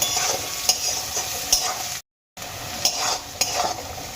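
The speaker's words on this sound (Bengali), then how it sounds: "এবার এই পেঁয়াজগুলোকে আমি ভেজে নরম করে নেবো" Onions fry in a pan until soft, giving a steady hissing sizzle with periodic scraping stirs, briefly cut to silence halfway through before the frying resumes.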